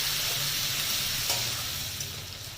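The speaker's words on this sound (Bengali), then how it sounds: "তো পেঁয়াজটা ভেজে নিয়েছি, এবার দিচ্ছি আমি মশলাটা" Onions and a ground paste of dried chilli, ginger and garlic fry in a pan over lowered gas, giving a steady, even sizzle that continues unbroken and softens slightly toward the end.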